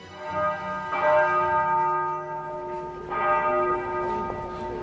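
Morning church bells ring out in a resonant, sustained peal, with two distinct strikes whose tones hang and decay, heard clearly with no voices.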